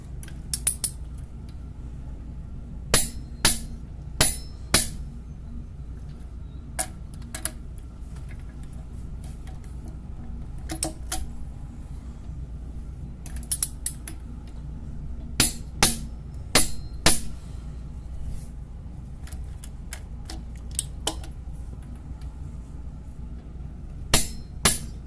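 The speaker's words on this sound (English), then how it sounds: "to use one of these torque wrenches, you just put it on there, push on it till she clicks" Torque wrench being used to tighten lug nuts on a 1992 Eclipse wheel, sharp metallic clicks and ticks scattered irregularly over a steady low background hum, close by.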